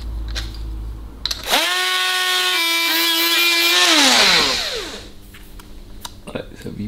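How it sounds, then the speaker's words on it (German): A flap disc sander smooths the ports of an oversized XXL Abarth cylinder head, spinning up into a loud steady whine for about three seconds before winding down, with quieter workshop noise around it. "Jetzt im letzten Step nehmen wir nochmal hier so einen schönen, bereits abgeschliffenen Fächerschleifer, den wir da nochmal ein bisschen durchziehen zum Glätten."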